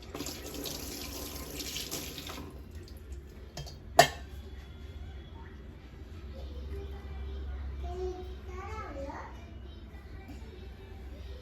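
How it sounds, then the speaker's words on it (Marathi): A kitchen tap runs for about two seconds while flour-covered hands are washed under it. A sharp clank follows, and children chatter faintly in the background. "मी जरा हात धुवून घेते माझा पिठाचा हात आहे"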